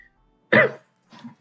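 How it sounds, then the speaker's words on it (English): A person coughs nearby in two short, rough bursts: a loud first cough followed by a softer second one a moment later, with silence around them. "He's coughing."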